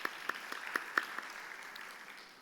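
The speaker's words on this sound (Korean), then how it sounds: "이 시간 귀하게 찬양해 주신 그리스 찬양대에게 감사의 박수 한 번 더 하겠습니다" A church youth congregation claps briefly for the choir, a thin scatter of separate hand claps that fades out quickly.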